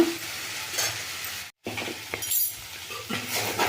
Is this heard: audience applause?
no